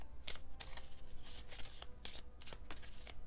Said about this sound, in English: You're gonna shuffle these cards up, keep them face down, and set them off to the side.